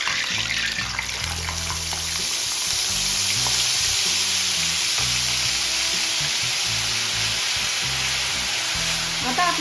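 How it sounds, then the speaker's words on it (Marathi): A pan of onion and tomato paste sizzles steadily and loudly throughout, a dense continuous frying hiss with faint stirring scrapes underneath. "आता इथे आपली कांदे टोमॅटोची पेस्ट छान परतून झालेली आहे"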